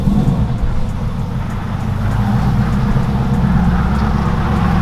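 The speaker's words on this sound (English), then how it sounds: "The tires sound horrible." Road and tire roar from a Whipple-supercharged, E85-tuned Ford Mustang GT on 305-width front tires, a dense, loud, unbroken rumble with a slight rise toward the end and no talk.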